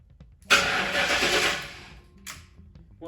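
Crown Victoria engine cranking as someone tries to start it, a loud burst of starter churning for about a second and a half that fails to catch, followed by a brief second crank.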